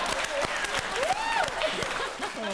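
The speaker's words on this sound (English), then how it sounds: "Can we have a round of applause for Dolores," Studio audience applause on a TV talent show, continuous dense clapping with a whooping cheer rising through the middle.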